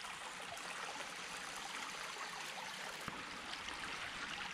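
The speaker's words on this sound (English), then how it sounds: "the stream comes over here too" A clear woodland stream near the campsites on the hike to Newman's Ledge at North Lake in Palenville, New York, flows and splashes in a steady, even wash with no voices, one brief knock standing out near the end.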